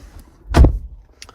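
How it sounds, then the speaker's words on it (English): A single solid thud of a Nissan Navara pickup truck door shutting, close and loud, followed by a faint click. "Let me shut the door"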